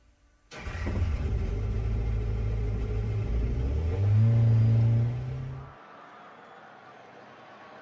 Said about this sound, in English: I like the sound of the Lexus.